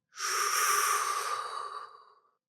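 A single long, breathy exhale hisses out close to the microphone, fading gradually over about two seconds.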